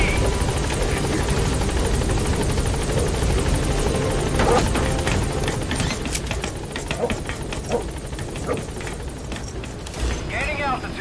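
Military helicopter from Metal Gear Solid 5 lifting off and flying away, a loud steady rotor drone that thins toward the end, with clattering game effects and sharp bursts mixed in over the final seconds.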